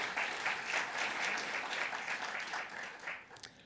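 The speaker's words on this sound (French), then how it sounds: "ils méritent notre reconnaissance et vos applaudissements même pour leur soutien" A conference audience at the Open World Forum, an open source event, applauds its sponsors: a full, rippling wash of clapping that gradually thins toward the end.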